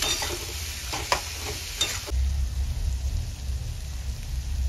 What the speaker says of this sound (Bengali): সামান্য একটুখানি জল দিয়ে দিচ্ছি, আরও ভালো করে কষিয়ে নেব।